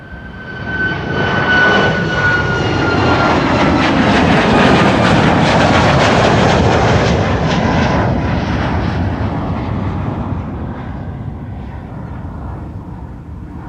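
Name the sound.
WestJet airliner flying to Halifax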